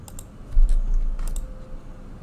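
Several quick clicks, as of a computer mouse or keyboard, tap near and fairly sharp over a low background hum, with no voice, while a Power Apps model-driven app is being edited.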